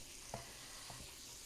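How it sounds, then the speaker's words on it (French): A chopped onion sweats in a frying pan, giving a faint, steady low sizzle with two soft taps of a utensil against the pan. "Alors, mon oignon commence à suer un peu."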